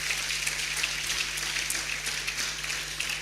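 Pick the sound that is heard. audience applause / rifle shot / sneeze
audience applause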